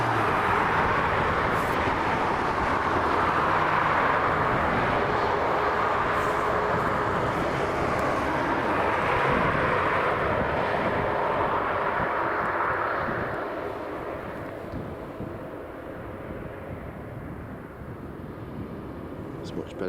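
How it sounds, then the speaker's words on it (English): A Boeing 737 MAX airliner leaves Dublin Airport with a sustained jet engine roar that stays strong for about twelve seconds, then eases to a quieter rumble as it moves away. "Next up is Boeing 737 and MAX FR4300 heading over to Budapest."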